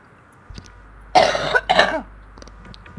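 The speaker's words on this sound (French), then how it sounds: "je tousse beaucoup en ce moment" A person coughs twice in quick succession, close and fairly loud, after a faint throat noise, with quiet room tone before and after.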